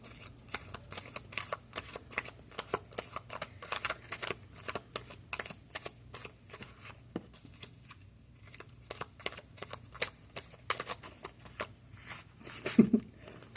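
Oracle cards being shuffled by hand, a long run of quiet, crisp riffling clicks and snaps in uneven bursts, close by and soft.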